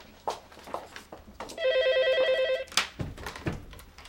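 Old landline telephone with an electronic warbling ring, one ring burst of about a second, heard indoors amid scattered footsteps and small knocks.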